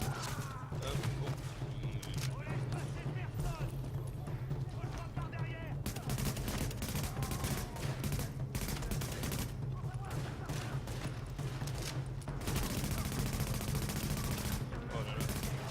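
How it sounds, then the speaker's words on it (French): Sustained assault rifle fire in the shooter game The Division, bursts and rapid volleys overlapping almost without pause, loud and dense with a low constant hum beneath. "J'aime pas trop jouer à cette arme là, à fusil d'assaut dans ce jeu"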